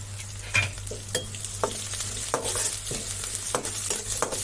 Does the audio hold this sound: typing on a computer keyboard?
no